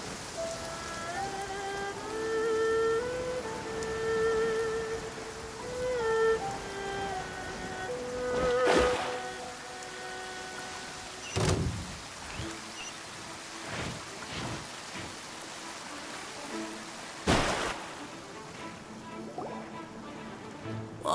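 Heavy rain falls steadily in a video game scene, with several sharp cracks and thumps breaking through the downpour and a soft musical tone drifting in the background.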